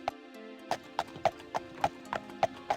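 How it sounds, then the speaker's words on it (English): Horse trotting hooves in The Elder Scrolls II video game: evenly spaced, sharp clip-clop hits, about ten in under three seconds, over a steady low game hum, with no voices. "the horse trotting sounds exactly the same"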